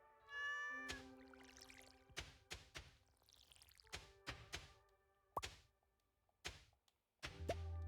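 A cat meows in the Stardew Valley farming game, a few short calls set among game music, chimes and soft thuds, with no talk.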